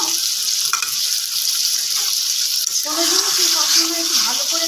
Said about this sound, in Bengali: এই আলু পটলটাকে এবার মশলার সাথে ভালোভাবে একটু নেড়ে চেড়ে নেওয়া হচ্ছে